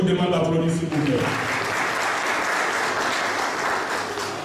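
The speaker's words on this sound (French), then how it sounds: "je vous demande d'applaudir s'il vous plaît" An audience bursts into steady, dense applause at an evening event, sustained throughout after a brief spoken introduction fades at the start.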